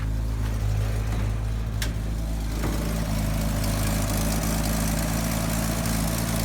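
A 1964 Ford Falcon engine idles steadily up close, a low continuous rumble with a slight exhaust leak, no talking over it.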